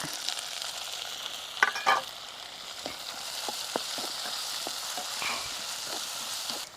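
Onion, garlic and tomato fry in a pan for a bread pakoda filling, giving a steady close sizzle broken by a few spoon taps and scrapes as the pan is stirred.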